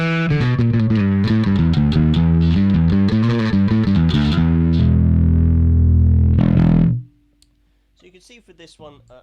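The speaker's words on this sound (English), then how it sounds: "I've got it set at quite a sort of a fuzzy overdrive" Electric bass played through a Darkglass B3K overdrive pedal set to a fuzzy, gritty tone, riffing loudly with a sustained low note before cutting off, followed by faint handling clicks.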